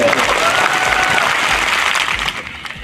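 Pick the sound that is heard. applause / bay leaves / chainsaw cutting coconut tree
applause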